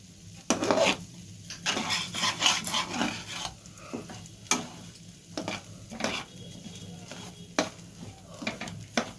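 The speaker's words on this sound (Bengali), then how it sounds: "এদিকে চাল ডালটা আমি আস্তে আস্তে নাড়তে থাকছি" Rice and lentils for khichuri are slowly stirred in a pan, a series of dry scraping and rustling strokes with brief clinks, fairly close and quiet, repeating irregularly without speech.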